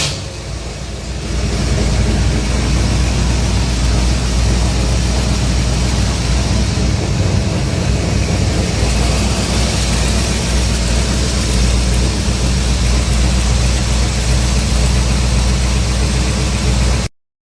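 A white 1953 Ford Crestline two-door sedan with a 350 Windsor V8 and C4 automatic runs steadily, a loud continuous engine roar with broadband rumble that holds constant for the whole stretch, no talking.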